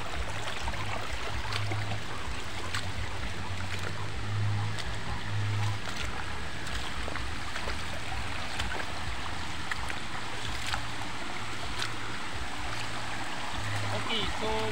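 Steady broadband rush of a waterfall at Camp Pari-an (Kaparian) Falls, continuous and fairly close, with water spray and occasional movement noises throughout.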